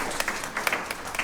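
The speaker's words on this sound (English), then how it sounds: "it's okay to clap, so don't worry" Scattered, fairly quiet clapping from an audience at an annual member meeting, a thin patter with a few sharper individual claps.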